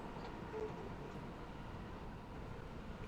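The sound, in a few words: train driving from video game Train Sim World 6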